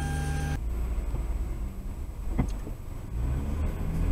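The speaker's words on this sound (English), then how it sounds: "I'm gonna start the car." A car engine starts and settles into a steady idle, a low rumble that fills the cabin at close range, with a brief sharp transient partway through.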